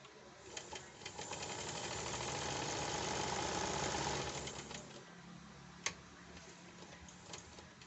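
A sewing machine stitches a buttonhole without a buttonhole foot, a steady close mechanical whir with rapid ticking that runs for about four seconds, then eases into softer intermittent clicks and a brief sharp knock.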